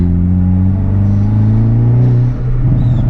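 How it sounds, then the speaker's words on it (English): Hyundai Veloster N fitted with an SXTH Element intake, its exhaust and intake giving a loud, close, steady droning rumble with strong low tones and a slight rise in pitch while accelerating, heard alone with no voices. "so the exhaust along with the intake sound"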